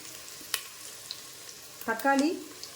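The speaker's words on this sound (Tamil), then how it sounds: "இந்த 4 வரமிளகாயை கிள்ளி போட்டு நல்லா வதக்கிட்டு" Dried red chillies sautéing in hot oil for tomato biryani, with faint sizzling, a few light clicks of a stirring spoon and a louder burst of frying near the end.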